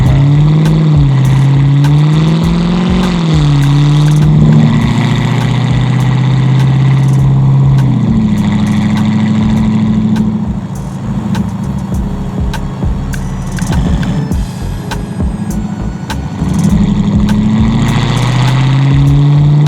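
The AMG engine in a widebody Mercedes-Benz 300SL Gullwing idles with a deep burble and blips into loud revs several times, close and strong, with no talking.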